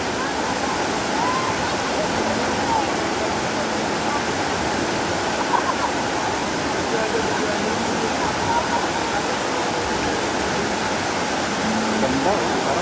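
Sprite Falls pours in a constant, dense roar of falling water throughout, heard up close and unbroken, with faint voices barely audible beneath the rush.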